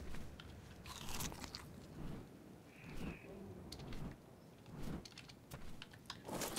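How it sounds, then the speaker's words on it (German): A character eats and drinks in Ark Survival Evolved, giving crunchy, repeated bites and chewing sounds in irregular bursts, fairly faint, over a soft background of game ambience. "Ich muss noch einmal eben trinken und essen."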